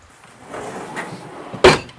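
A kitchen drawer in an overlanding vehicle setup is handled, with soft shuffling before one sharp, close knock as it shuts, then quiet.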